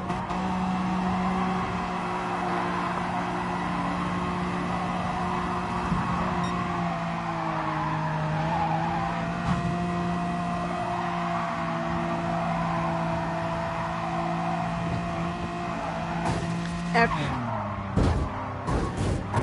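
A race car's engine in the Gran Turismo VR racing game drones steadily close up, its pitch dipping and rising with the throttle. A burst of tire skidding and scraping follows near the end.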